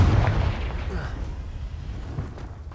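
Confringo explosion spell cast in the video game Hogwarts Legacy: a loud, deep booming blast that rolls on as a dense low rumble, with a sharper burst at the start.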